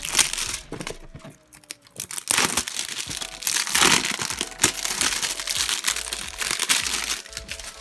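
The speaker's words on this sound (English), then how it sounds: "This box is encased in some plastic wrap, which is, there we go, a little bit difficult to undo." Plastic wrap being peeled and torn off an MGC 6x6 puzzle cube box, loud close crinkling and crackling in continuous irregular bursts with brief pauses, no talk.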